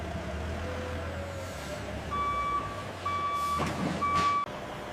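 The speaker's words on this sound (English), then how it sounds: "Trucks arrive, positioned to carry pineapple juice across distances." A truck arrives at a pineapple juice factory's dispatch zone to carry pallets of juice, its reversing beeps sounding in a steady repeating pattern over a constant low engine rumble, with a brief air-brake hiss near the end.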